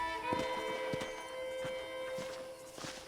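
A horse's hooves in Red Dead Online clip-clop in a quick, regular rhythm, moderately close, over a faint musical background tone with no talking.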